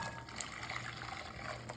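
Hot water is poured onto lime jello powder, making a quiet, steady trickling pour that is close but faint, with no talk.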